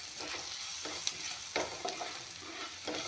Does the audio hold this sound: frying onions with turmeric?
yes